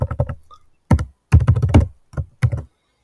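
Close keystrokes on a computer keyboard while writing Python file-reading code: a quick flurry of taps, a pause, then several short bursts of crisp clicking with brief silent gaps.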